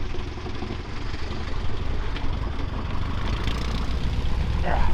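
A HiperBipe aerobatic biplane's engine drones steadily while the aircraft taxis, a loud, constant, broadband rumble with no break, close to the listener.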